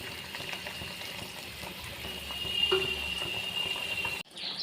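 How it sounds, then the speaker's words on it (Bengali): Yogurt-based fish curry gravy for dahi katla boils steadily in a pan, a continuous bubbling hiss with small pops that ends abruptly near the close. "গ্রেভিটা ফুটে উঠেছে"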